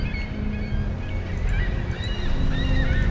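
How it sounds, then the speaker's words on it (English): Seabirds cry in a lighthouse setting in the video game The Lightkeeper, with honking calls layered over a steady wash of ambient noise, continuous and moderately loud throughout. "Oh, seagull. So that's why the birds are crying out."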